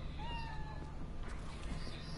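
In the game Cyberpunk 2077, a cat gives a couple of short, quiet meows near the start over a low background hum, then faint movement sounds follow.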